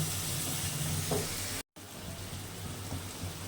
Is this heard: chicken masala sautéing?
yes